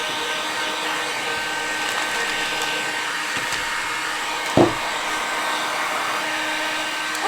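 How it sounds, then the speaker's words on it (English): Heat gun blowing hot air over a single-tier riser in a workshop, a steady even whoosh that runs throughout with one brief knock partway through. "Pop the heat gun on this."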